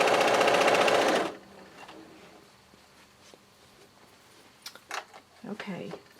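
A sewing machine runs a fast, buzzing stitch through jelly roll race quilt strips for about a second, then stops, leaving a quiet room with light handling noises and brief talk.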